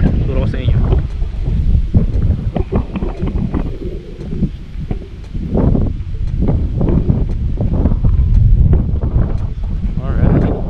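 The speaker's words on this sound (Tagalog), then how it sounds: "Actually ano rito, mahangin guys. Ang lamig ng hangin, no?" Gusty, cold wind buffets the microphone throughout on an open residential lot in Tagaytay, with rumbling low noise and a person talking over it.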